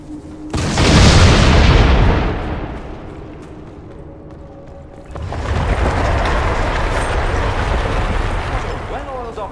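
A video game explosion in Dragon Age Inquisition Trespasser, a sudden loud boom with a long rumbling decay, then a second sustained roaring blast rising under a brief voice.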